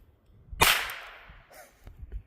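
A Sig P320 pistol discharges once with a single loud, sharp crack and a quickly fading tail, followed by a few faint clicks.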